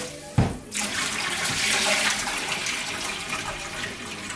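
Water pours and splashes while a cabbage stew pot is rinsed, starting with a sharp clunk and then a steady rushing, gurgling stream up close with no talking.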